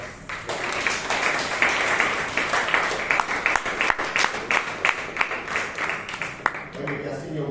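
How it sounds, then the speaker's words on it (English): Applause rings out from a Toastmasters meeting audience in Bangalore for the vote takers: a dense, steady patter of many hands clapping that continues for several seconds, with voices mixed in. "give them all a thunderous round of applause"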